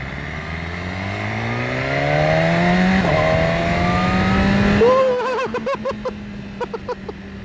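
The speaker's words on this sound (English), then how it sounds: "this is just the stock exhaust" A 2018 BMW S1000RR motorcycle on its stock exhaust revs loudly, climbing in pitch, then drops to a rumbling idle broken by a few sharp throttle blips.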